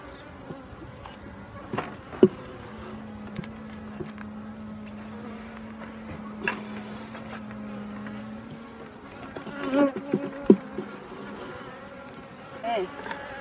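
Honey bees hum and buzz around an open hive close by, a steady drone with a few individuals zipping past, plus occasional small knocks and handling sounds.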